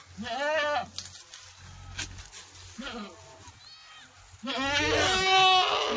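Kathewadi goats bleating inside a vehicle, several loud wavering bleats close by in separate bursts with gaps, a person talking between them.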